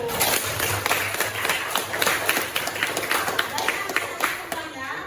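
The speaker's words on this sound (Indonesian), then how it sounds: "Kita beri aplaus dulu." A classroom group claps hands together, a dense patter of many close, quick claps sustained for several seconds, with voices mixed in underneath.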